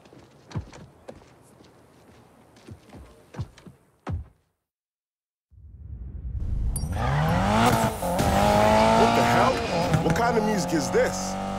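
In Need for Speed Payback, a car idles and thumps briefly, then after a pause its engine roars up and the tires squeal loudly in a sustained drift, with engine pitch sweeping up and down.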